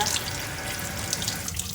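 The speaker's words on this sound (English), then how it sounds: "I'm just going to run cold water to make sure we get all the strawberries rinsed off" Cold tap water pours steadily over strawberries in a colander in a sink, a close, even splashing rush with no voices.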